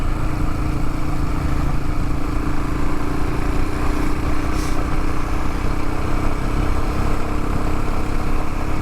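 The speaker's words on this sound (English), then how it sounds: "Got some vehicles coming." Engines of several vehicles on a mountain trail rumble steadily and loudly throughout, a continuous broadband motor drone with no clear pass-by peak, heard from a moving motorcycle's perspective.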